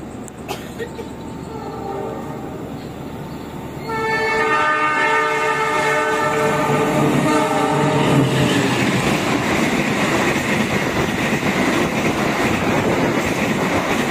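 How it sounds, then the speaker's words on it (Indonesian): An Argo Wilis express train rushes through a station at high speed, its horn blaring loud and sustained as the roar of the passing cars swells and continues to the end. "Nah, kita tunggu ya, Argo Wilisnya ngebut ini."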